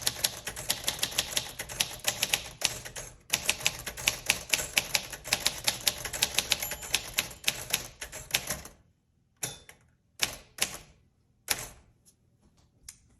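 Rapid, crisp keystrokes on a 1947 Royal Quiet Deluxe manual typewriter with glass keys, close and loud in a steady clatter, then slowing into sparse, separated strikes and short bursts with pauses between.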